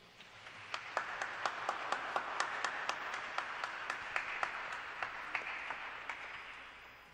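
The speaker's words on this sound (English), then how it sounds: "let's give a round of applause for them" An audience at a Diwali celebration in a chapel applauds, soft continuous clapping with a few sharper claps standing out at a steady pace, somewhat distant and fairly quiet throughout.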